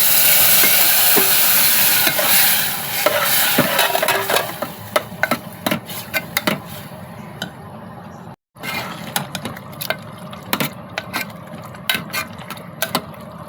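Taro leaves tossed with spice powder and turmeric in a hot pan, giving a steady loud sizzle with clinking spoon-on-metal stirring strokes, a brief pause, then sparser scraping and clinks.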